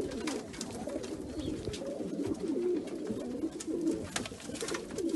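Tumbler pigeons coo steadily in a low, rolling murmur, several birds overlapping continuously at close range with no talk over them.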